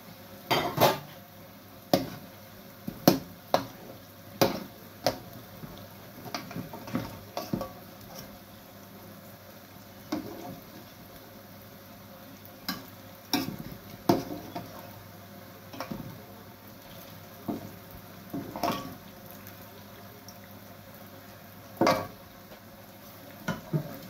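Fried fish being stirred into masala in a home kitchen for a Pakistani-style masala fish, with a spoon clinking and scraping against the pan in irregular taps and knocks, close and fairly loud, with no talking.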